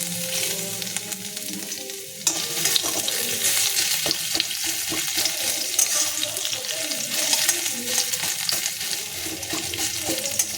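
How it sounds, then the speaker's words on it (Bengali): Garlic hits hot mustard oil already tempered with bay leaf, dried chili and cumin in a wok, giving a sudden loud sizzle that settles into steady, close crackling frying. "কড়ায় সর্ষের তেল দিয়ে আর তেজপাতা লঙ্কা জিরে ফোড়ন দিয়ে নিয়েছি আর এইবার দিয়ে দেবো আমি একটু রসুন ফোড়ন দেবো"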